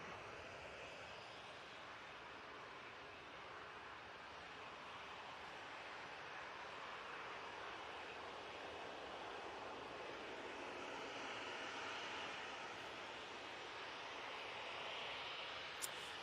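An easyJet-type airliner departs Manchester Airport for Genoa, its jet engines producing a faint, distant, steady roar that builds slightly over the span, with no voices heard.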